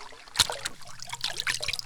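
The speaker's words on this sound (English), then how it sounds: "Now take the pan, dip it in the water," A gold pan dipped into river water at the edge of a river, giving a brief splash followed by soft trickling and dribbling water sounds, fairly close.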